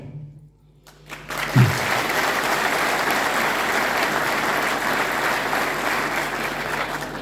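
Loud, sustained crowd applause at a 2022 anniversary commemoration for the 9th HOS battalion, greeting the battalion's youth section; the clapping swells after a brief quiet moment and continues steadily to the end.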